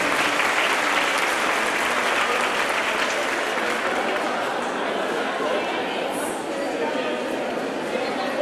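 An audience at an opening event for Familias en Acción claps steadily and loudly, a dense, sustained ovation with faint crowd chatter mixed in that holds for the full length.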